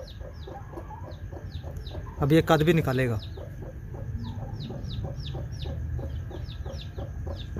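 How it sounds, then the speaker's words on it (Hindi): A hen and her chicks at a farm, the chicks cheeping in quick repeated peeps throughout while low clucking runs underneath, with a short burst of someone talking over them partway. "ये बच्चों पर हमला करने के लिए आ रही है मुर्गी और बच्चे"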